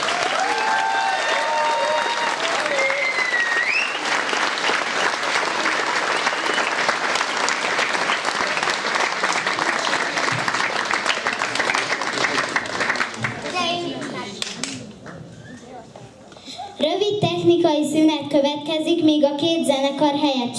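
Audience applause at a youth wind band concert during a museum night event fills most of the span as loud, steady clapping. It thins out near the end as children's voices and chatter take over.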